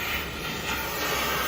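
Jeweler's torch melting gold and silver, a loud, steady, close roaring hiss of the flame that runs unbroken throughout.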